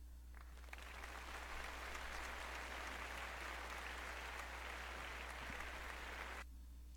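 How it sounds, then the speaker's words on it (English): Recorded crowd applause from a recital starts abruptly, holds as a thick, steady patter of many clapping hands for about six seconds, then cuts off sharply to a low hum. "I'm going to send a clapping crowd studio."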